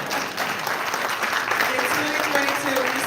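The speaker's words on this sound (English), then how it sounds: "clap for that" Sustained applause from an audience at a press conference for a battle of the bands event, with a steady wash of clapping and some voices over it.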